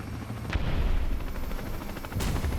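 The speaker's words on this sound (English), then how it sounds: "I hear a helicopter." A deep rumbling whir of a helicopter in War Thunder throbs continuously, with two sharp bangs of in-game gunfire cutting through.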